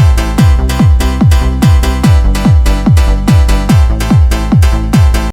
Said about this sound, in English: Let's add a kick so we can immediately see what that would do to the groove.